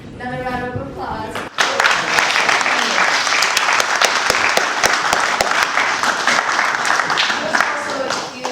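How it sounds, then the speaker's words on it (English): Audience at an evening entheogenic education event in Eureka, California, breaking into sustained applause after a brief moment of talk, many hands clapping loudly and continuously with sharp individual claps standing out. "Another round of applause."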